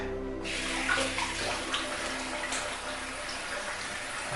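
Tap water runs steadily after a shave, rinsing away lather in a continuous, even rush at moderate level.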